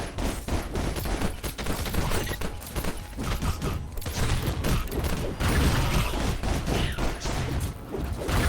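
Dense, continuous video game gunfire with rapid bursts and booms, loud and close throughout, with a mechanical clatter underneath and no talking.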